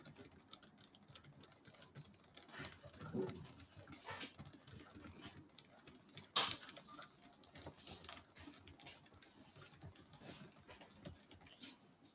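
Typing on a computer keyboard while entering text in Microsoft Word: a steady, fairly quiet patter of key presses across the whole stretch, with a few louder taps standing out.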